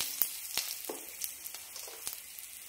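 Cumin seeds and asafoetida sizzling in hot mustard oil: a faint, steady crackling hiss peppered with sharp pops and spits, heard close up with no voices.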